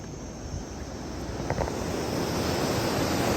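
Water of the Bhakra canal flows past in a broad, steady rushing roar, close and continuous, swelling slightly louder toward the end with a touch of wind buffeting.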